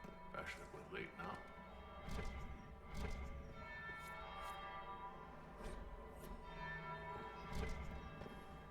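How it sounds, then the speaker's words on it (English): A church bell tolls repeatedly in Dragon Age: Inquisition, resonant strokes ringing out beneath ambient game sound and a voice talking over it. "That would be the second bell"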